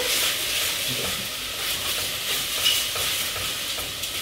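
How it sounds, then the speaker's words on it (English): Garlic and onion sizzle with lamb in a hot pan while being stirred, a loud continuous hiss with scraping stir strokes, no voices. "So let's just pop our garlic and onion in there. Give that a little bit more of a stir."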